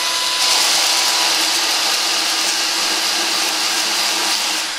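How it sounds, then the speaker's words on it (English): A small drill-mounted sanding pad with 60 grit paper grinds a stone inlay in a turned wooden bowl held in a chuck in a vise, giving a steady, loud, close whirring hiss that runs without pause. "we're using a 60 grit paper and we're using a small drill sanding pad"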